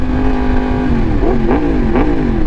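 A motorcycle engine drones steadily, then revs up in a few quick rising bursts, loud and close.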